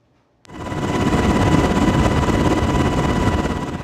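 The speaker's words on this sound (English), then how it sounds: "It's a few minutes after sunrise, and it's liftoff. A Navy chopper carrying our camera is bound for the bay." A Navy helicopter lifts off at sunrise, its engine and rotor surging in abruptly after near silence and holding a loud, dense, continuous roar with rapid rotor chop, close by and without voices.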